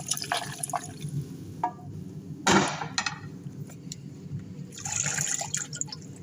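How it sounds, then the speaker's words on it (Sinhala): Boiled chicken stock is poured from a pot into rice for Kuwaiti lamb machboos, giving a short splashing gush of liquid amid quieter drips and kitchen clatter. "දැන් මේකට බත් එකට අපි මේ තම්බගත්ත කුකුල් මස් වතුර එක දානවා"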